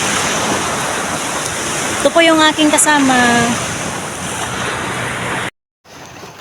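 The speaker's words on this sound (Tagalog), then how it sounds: "Ngayon po ay nandito ulit kami sa dagat." Steady sea surf and wind roar across a beach, a constant loud wash with buffeting wind on the microphone, while someone speaks briefly over it before the sound cuts out near the end.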